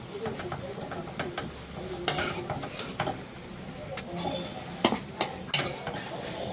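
Serving fish curry with a ladle into a bowl alongside fried bitter gourd and potato, with scattered clinks of dishes and utensils and sharp metallic taps over quiet home room tone.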